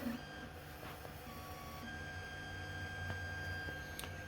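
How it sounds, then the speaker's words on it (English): A Wanhao i3 3D printer running a long print job for a 65 mm CNC spindle mount, giving a faint, steady whir with tonal stepper-motor whines that shift pitch and a few soft clicks. "And here's the print job running."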